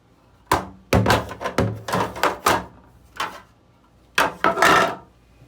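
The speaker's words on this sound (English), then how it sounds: "We brought the shelves inside, so we're just going to set them in here." A run of hard knocks and scraping thunks as rigid refrigerator shelves are set down and shifted, close by, in irregular bursts with a short pause midway.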